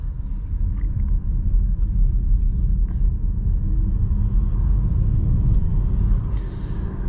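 A Volkswagen ID.3 electric hatchback with 110 kW (150 hp) accelerates under throttle, giving a continuous low rumble of road and cabin noise heard from inside, with faint light ticks on top.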